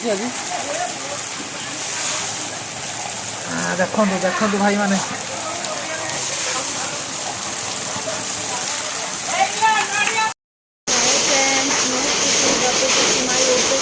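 Heavy rain with hail pounds steadily with a dense, hissing roar while people talk excitedly over it; a brief dropout near the end.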